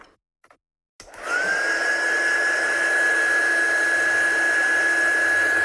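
A hair dryer blowing on masking fluid on a painting switches on after a moment of quiet, then runs as a loud, steady whirring drone with a constant high whine.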